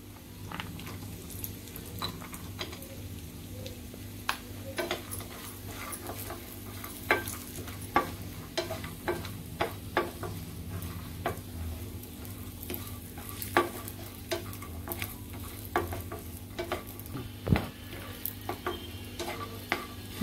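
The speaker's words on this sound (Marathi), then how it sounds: "आता खोबरं आपण भाजून घेऊया चांगलं तेलावरती।" Grated coconut roasting in a little oil in a pan, a soft continuous sizzle under repeated light stirring scrapes and taps, fairly quiet and close.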